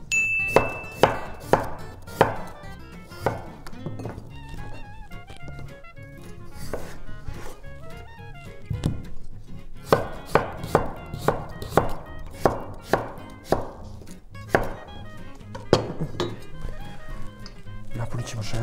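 Potatoes are sliced into thin pieces with a knife, making rhythmic sharp taps in quick bursts with brief pauses, close and clear, while a voice speaks between the strokes.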